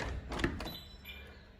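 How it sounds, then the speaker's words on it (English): A bifolding door slides and thuds shut, then a second softer knock as it opens again, close by in a quiet room. "So now when I close the door and I open it again"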